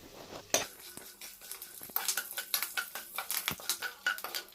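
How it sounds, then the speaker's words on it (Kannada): Poppy seeds, curry leaves and cashews being fried and stirred in a pan for a Kannada-style chicken liver and gizzard curry, with close metal scraping and clattering utensil strokes over a soft sizzle, no talking. "ಈಗ ಇದಿಷ್ಟನ್ನು ಚೆನ್ನಾಗಿ ಫ್ರೈ ಮಾಡ್ಕೊಳ್ಳಿ."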